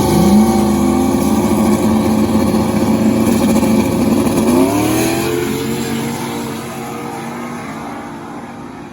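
A Prostreet 519 Blue Collar no-prep drag race car, a Camaro, launches and roars down the track, its loud engine climbing in pitch through the gears before the sound fades with distance.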